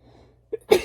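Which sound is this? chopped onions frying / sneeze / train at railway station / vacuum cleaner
sneeze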